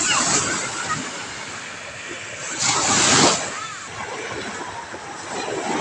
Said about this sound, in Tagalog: May talbog ang alon pero hindi naman malaki.